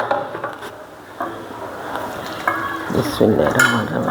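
Small local tengra fish being hand-mixed with oil and green chillies in a bowl, producing soft wet squelching and scraping with occasional clinks of the dish, growing busier toward the end.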